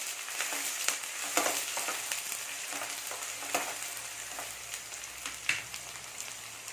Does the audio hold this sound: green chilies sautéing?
yes